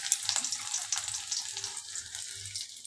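Chopped onion dropped into hot oil, frying for uchhe-begun bhaja (bitter gourd and eggplant), sizzles steadily and close with broad bright hiss and faint stirring bumps, no voices.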